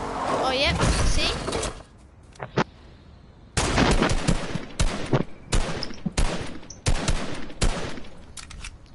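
Video game gunfire rings out in several sharp bursts with brief gaps between them, loud and close, and players talk over parts of it.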